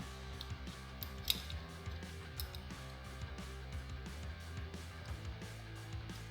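A ratchet works Torx 25 bolts loose on a Harley-Davidson Iron 883 primary cover, giving quiet, close clicking and ratcheting in short irregular bursts over a steady low hum.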